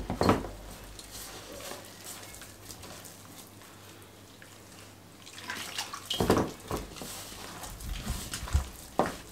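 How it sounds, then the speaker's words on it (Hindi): Water poured into a bowl of gram-flour batter for crispy potato chip pakora, a broad splashing, stirring wash in bursts near the start and again in the second half, close and fairly loud, with no talk. "थोड़ा सा पानी डाल के इसका घोल तैयार कर लेते हैं"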